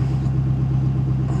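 A 2013 Ford F-350 Super Duty engine idles cold while warming up, a steady low droning rumble held close and loud throughout, with no talk over it.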